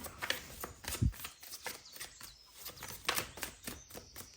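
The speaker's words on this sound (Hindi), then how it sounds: "एक कार्ड और लेते हैं" Tarot cards being shuffled and drawn from a deck in quiet, close-up, soft riffling and papery flicks with a few sharper snaps, faint overall and with no speech.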